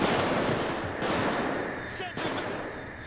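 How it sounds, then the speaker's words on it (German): Dense automatic gunfire roars through a PayDay 2 heist shootout, continuous loud bursts with brief breaks, while a player speaks over the din. "Auf was schießen die bitte?"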